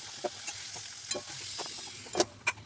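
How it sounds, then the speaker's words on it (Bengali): Potatoes fry in oil in a pan for fish curry, a quiet steady sizzle broken by a few sharp clinks and scrapes of stirring, with no voices. "আলুগুলো দেখুন লাল লাল করে ভাজা হয়ে গেছে"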